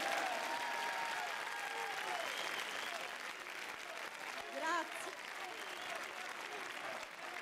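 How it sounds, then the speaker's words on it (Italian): A crowd at an open-air political rally in a city square applauds steadily and loudly, with someone talking over the clapping and voices shouting in the background. "Un grande applauso!"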